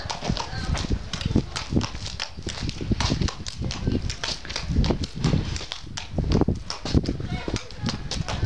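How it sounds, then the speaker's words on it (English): Horse hooves clop in a steady, rapid trotting rhythm on hard ground, with a voice talking over the hoofbeats. "The horse's name is Chetak."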